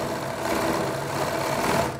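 A sewing machine running continuously while stitching fabric for multicolor dori piping, a dense steady mechanical whirr with fine rapid needle rhythm, close and moderately loud, with no gaps over two seconds.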